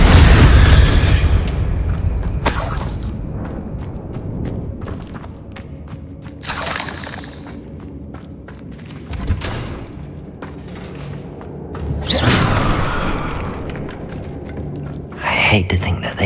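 Booming Bombarda spell explosions in the wizarding video game Hogwarts Legacy: several heavy blasts spaced across the stretch, each with a rumbling tail, between quieter ambient game sound and voices.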